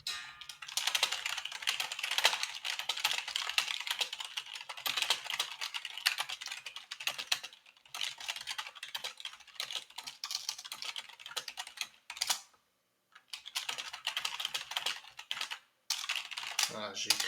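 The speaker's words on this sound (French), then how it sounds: "Désolé pour l'ASMR clavier." Rapid typing on a computer keyboard close to the microphone, dense clicking keystrokes in quick bursts with a few brief pauses, alone without talk.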